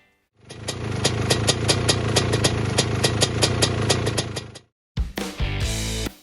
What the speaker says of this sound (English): I'll let you guys hear the engine at this point